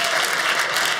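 Dense, steady applause from a comedy show audience, a continuous wash of many hands clapping at once with no gaps.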